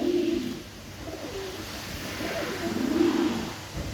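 Pet birds in a home aviary give soft, low cooing calls in several short rolling phrases, close by over a quiet background hum.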